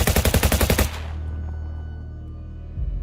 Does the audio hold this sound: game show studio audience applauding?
no